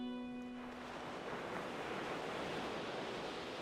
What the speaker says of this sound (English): Another wave rolls in, and the water touches your calves.